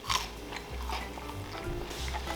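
A crispy Korean corn dog from Costco is bitten into, giving a sharp crunch at the start followed by softer close chewing over a steady background hum.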